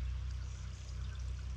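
Creek water in a garden runs steadily, a soft continuous gurgling flow, faint and close, with no voices.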